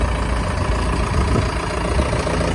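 A John Deere 6120M tractor with a four-cylinder engine idles at close range, a steady, dense low rumble running without a break through the whole stretch, with no voices over it.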